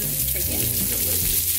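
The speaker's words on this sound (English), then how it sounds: "I kind of wanted to, like, cook this garlic a little bit." Garlic fries in a pan, giving a steady close sizzle and crackle with no pause.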